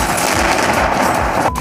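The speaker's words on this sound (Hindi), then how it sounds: "दोनों तरफ से गोलीबारी हो रही है, जिसका वीडियो सामने आया है।" Rapid automatic gunfire rattles during street fighting in Donbas, loud, dense, continuous bursts from exchanges between fighters, cut off abruptly just before the end.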